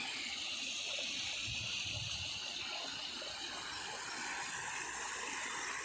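Steady rushing of a small waterfall beside a fish pond at a resort, a continuous broad splash and gurgle of falling water, constant and fairly loud with no voices.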